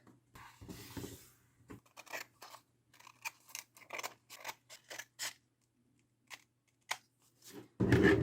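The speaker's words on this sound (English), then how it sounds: "Alright, great, we don't need the scissors anymore." Scissors snip through paper in a series of short, crisp cuts, some in quick runs and some spaced apart, close and clear.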